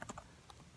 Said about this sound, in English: you're going to type into the URL bar